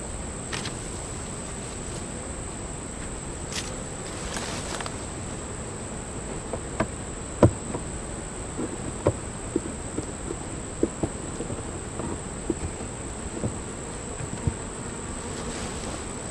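Honeybees buzz around a hive near a nuc box, a steady soft drone with occasional louder passes of individual bees close by, under faint tapping and handling noises.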